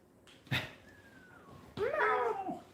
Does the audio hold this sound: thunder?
no